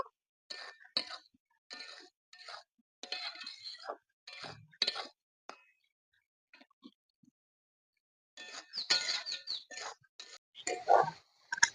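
A utensil scrapes and clinks against a pan as spice powder is stirred into hog plum pickle, in bursts of close, light scraping with a quiet pause in the middle.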